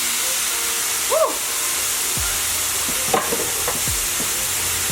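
Cabbage in a hot pan with olive oil hisses and steams steadily after water is poured in, a broad sizzling wash with a few scraping stirs of the pan.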